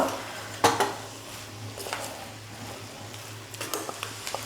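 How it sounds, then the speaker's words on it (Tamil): Spinach (arai keerai) rice stir-fried in a pan over low heat, with a spoon scraping and clinking against the pan in a few quick bursts over a faint background hum, no talking. "ஸ்டவ் கம்மியாக வச்சுட்டு 1 நிமிஷத்துக்கு நல்லா சாதத்தை வதக்கிக்கலாம்"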